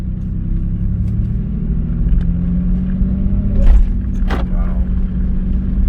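A 2009 Dodge Nitro drives along with harsh transmission shifts, its engine and road rumble steady from inside the cabin, with a couple of sharp knocks and jolts partway through.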